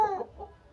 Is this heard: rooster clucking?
yes